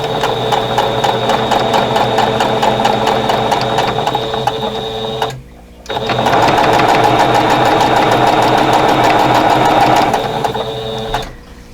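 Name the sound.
sewing machine stitching quilt block rows together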